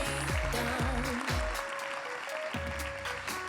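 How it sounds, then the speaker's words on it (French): Applause from an awards-night audience at a Béarn business trophies ceremony, steady and sustained for a few seconds, mixed with loud tonal music and heavy bass beats. "Des applaudissements s'il vous plaît pour Biomode et pour les autres nommés de cette catégorie."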